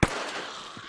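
A single grenade bursts in the video game DayZ with one sharp, loud blast that decays into a brief echoing tail.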